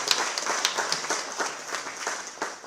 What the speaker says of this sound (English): Please give a big round of applause to our entire team.